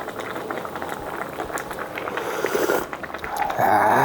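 Korean doenjang soup with Cheongyang chili peppers bubbles steadily in a pot, a close, continuous boil that grows louder and more vigorous toward the end.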